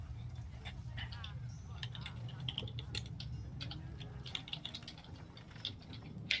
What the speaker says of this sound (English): I hear the typing and I am pleased.